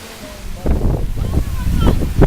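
Gusty wind on a windy outdoor day buffets the microphone with deep rumbling blasts that surge and fade irregularly, loud and close.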